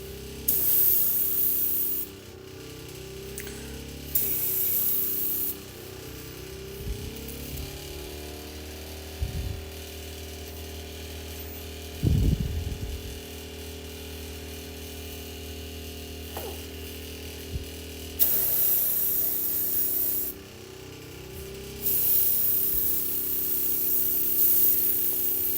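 Airbrush spraying paint onto Warhammer miniatures, close hissing bursts of varying length with pauses between, plus a few small knocks and clicks during the quiet stretch.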